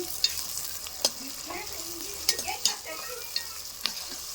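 Green chillies and onions frying in a pan, a soft continuous sizzle with occasional sharp clicks of a spoon stirring against the metal, close and steady with no talking.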